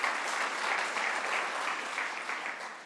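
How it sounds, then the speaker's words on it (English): Steady, dense applause from a civic audience at a city address in St. Catharines, a continuous wash of clapping holding at even loudness throughout without voices. "That deserves a round of applause."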